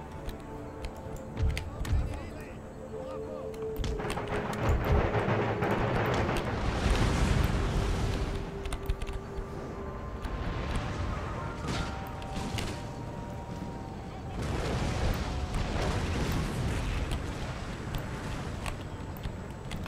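Cannon and musket volleys in Empire: Total War crash out across the battle, with repeated heavy booms and rattling bursts over a steady rumble, mixed with game music and a voice speaking over it.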